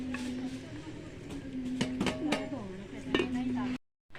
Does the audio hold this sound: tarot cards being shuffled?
no